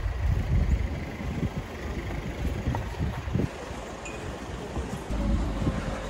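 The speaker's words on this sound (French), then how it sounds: "Je trouve qu'il y a quand même beaucoup de vent." Strong wind blowing outdoors near a hospital, a steady loud roar buffeting the microphone with gusting surges throughout and no talking.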